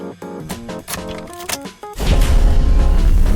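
In the video game Goddess of Victory: Nikke, the ship Admire starts up: mechanical clanks and tonal hits build up, then a heavy, rumbling engine roar kicks in and holds loud and steady.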